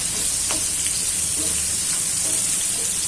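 Onions for a creamy onion sabzi cooking over a low-to-medium gas flame, a continuous close sizzle with soft bursts of stirring and spatter, heard alone.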